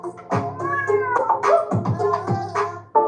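A cat meows several times in quick succession, close and clear, with drawn-out plaintive cries rising and falling in pitch and a short sound at the end.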